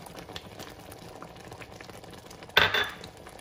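A spoon stirs tomato sauce with chilli and salt in a pot, one brief scraping clatter against the metal over a low simmering bubble, close and quiet.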